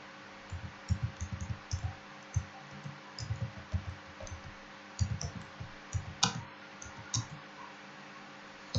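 Slow, uneven clicks from a computer keyboard while someone works in the Godot 4 game engine, close and fairly quiet over a steady background hum, with a brief sharper click near the middle.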